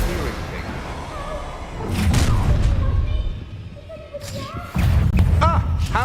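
Confringo blast spells in the video game Hogwarts Legacy land as heavy thumping booms with crackling bursts, two loud impacts separated by a quieter gap, over game effects and character voices.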